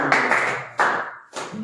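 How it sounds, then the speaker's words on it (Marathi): A church congregation claps loudly during a Sunday service of praise and thanks, in several broad, ringing bursts a few beats apart, close and full. "जोरात टाळ्या"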